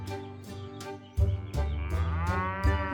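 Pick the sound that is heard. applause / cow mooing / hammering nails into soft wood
cow mooing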